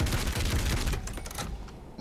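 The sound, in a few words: combat shotgun full-automatic fire in Doom Eternal video game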